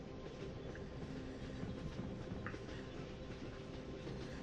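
A train in the video game City of Steam rolls steadily on its tracks, a quiet, continuous low rumble with faint rhythmic clatter and occasional light metallic clicks.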